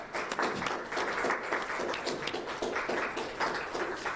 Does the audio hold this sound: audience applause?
yes